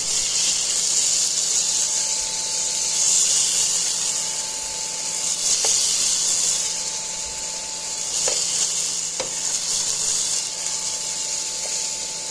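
Beef chunks sear in a hot pot for Southern-style beef stew, giving a steady, loud hiss and sizzle throughout with a few brief clinks from a utensil.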